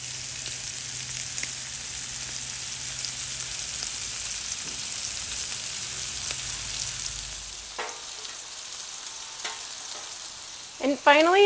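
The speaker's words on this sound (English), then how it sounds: "I'm going to toast up some French baguette on the side" Baguette slices toasting in oil with garlic on a Blackstone griddle give a steady, even sizzle that runs unbroken for most of the clip before thinning out, with a few brief clinks near the end.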